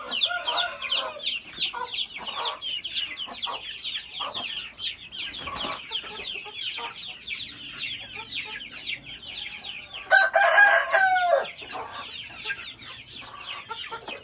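Domestic chickens of a backyard breed cluck steadily in a dense flock chorus, with a rooster's louder crow rising about two-thirds of the way through; no talking.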